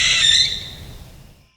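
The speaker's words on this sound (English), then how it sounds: "Was that a barn owl?" A barn owl lets out a single harsh, hissing scream at night, loud and close, fading out over about a second and a half.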